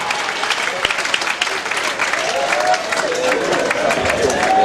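A church festival crowd applauds at an arts and culture event. Continuous clapping is mixed with crowd noise and a few raised voices or calls, holding at a fairly steady, moderately loud level throughout.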